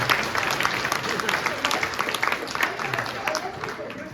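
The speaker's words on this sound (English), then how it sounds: "let's give a round of applause for Patrick Gibson and Larry" Audience applause fills a comic expo panel room for the Marvel's X-Men '97 guests, a dense, steady wash of clapping lasting a few seconds with some crowd noise mixed in.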